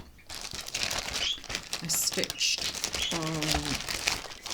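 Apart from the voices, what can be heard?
rustling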